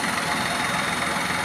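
A steady, dense mechanical hum from the engine bay of a Maruti WagonR, its air-conditioning compressor running evenly and continuously up close.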